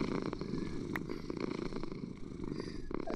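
A cat purrs in the Minecraft video game, a soft, steady rumbling purr heard up close and alone, with a faint brief chime partway through.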